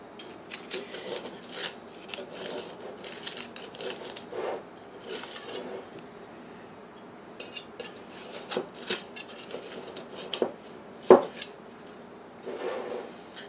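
An old cake frosting spatula scrapes and loosens soil around a Kalanchoe in its pot, faint rasping and scratching strokes in irregular bursts with occasional sharper knocks against the pot, close and quiet.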